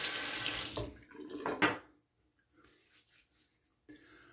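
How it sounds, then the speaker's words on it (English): A water tap runs loudly into a sink as a shaving razor is rinsed under it, then the flow cuts off abruptly and faint handling noises follow. "we're going to just rinse that off and continue"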